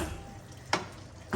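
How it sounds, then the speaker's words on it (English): Tomato casserole sauce simmers on low heat, a soft steady sizzle and bubble with a couple of brief stirring scrapes, close and fairly quiet. "I'm just going to let this cook now on a low heat."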